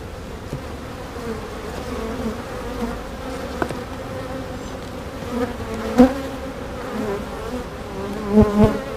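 A colony of honeybees buzzes steadily around an open hive during a frame inspection, a dense continuous drone with a few louder bees passing close near the end.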